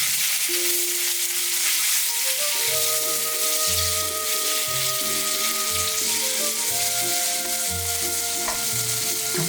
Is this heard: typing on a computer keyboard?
no